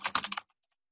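Quick burst of keyboard typing while entering a message in a teacher messaging app, about half a second of close clustered key clicks, then silence.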